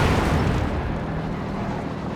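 A mortar pit destroyed by an explosion in the Company of Heroes 2 video game, a loud, heavy blast whose rumbling roar holds steady and slowly fades.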